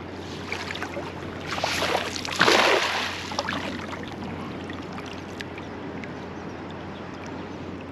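A river current rushes steadily over rocks, making a continuous broadband wash that swells into a louder surge partway through before settling back to an even flow.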